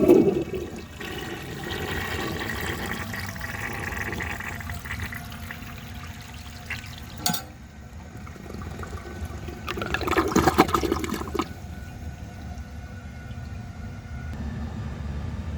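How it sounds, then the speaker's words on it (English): A 1930 Eljer Sanus toilet flushes with a loud rushing of water that swells, dips, then surges again before settling into a steady refill hiss, close by with no talking. "I'll go ahead and give that another flush and see if it can take it like that."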